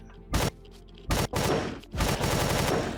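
Gunfire in the space game Empyrion, loud close weapon bursts in several sharp blasts followed by sustained rapid firing with no talk over it.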